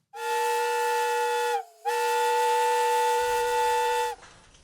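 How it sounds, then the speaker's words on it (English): A loud, shrill steam whistle on the very first Dutch car blows in a sustained tone, cuts out briefly, then resumes before stopping abruptly, leaving a soft hiss. "a steam whistle producing a shrill sound"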